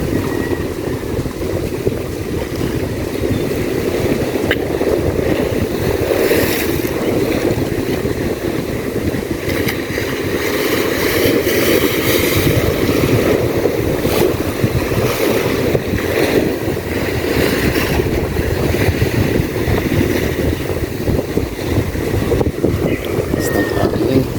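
A small wooden outrigger bangka travels along the Masinloc bay in rough conditions, its steady engine drone and churning water continuous under strong wind buffeting the microphone.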